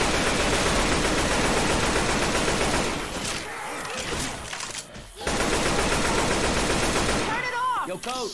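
Sustained gunfire from a Left 4 Dead 2 match, dense rapid shots for several seconds, briefly thinning midway before resuming, with players talking over the shooting.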